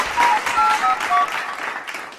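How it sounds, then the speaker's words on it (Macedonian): A studio audience on a Macedonian TV show applauds, a dense wash of clapping rising in short swells, steady across the whole stretch with no voices. "Ве молам со еден аплауз да ја поздравиме."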